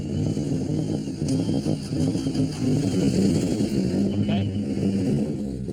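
Motorbike engine at a speed record attempt for the world's fastest motorbike starting and revving, a steady throaty rumble with rising throttle blips, close by, with talk over it.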